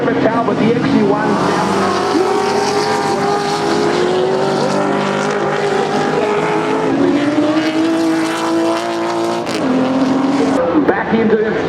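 A 1969 Ford Mustang touring car with 600 horsepower screams at 7,000 RPM during a Touring Car Masters race at Symmons Plains. The engine is loud and sustained, with its pitch rising and falling through gear changes, and a commentator talks over it.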